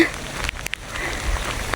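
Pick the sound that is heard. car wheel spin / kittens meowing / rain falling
rain falling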